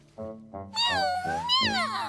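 Cartoon kittens give a quick run of short meows followed by two longer, rising high-pitched mews, close and clear with nothing else heard.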